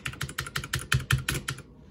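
A new computer keyboard typed on at close range, about a dozen crisp key clacks in a quick, fairly even rhythm before stopping.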